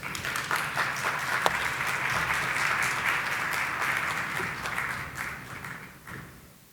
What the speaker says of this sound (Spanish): la vamos a recibir con un gran aplauso